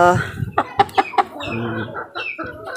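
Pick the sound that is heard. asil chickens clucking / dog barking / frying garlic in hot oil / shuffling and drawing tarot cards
asil chickens clucking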